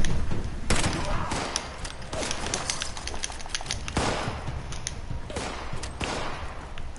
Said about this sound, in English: Hurry, shoot him!